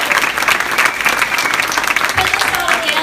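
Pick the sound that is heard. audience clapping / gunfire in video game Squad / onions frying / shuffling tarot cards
audience clapping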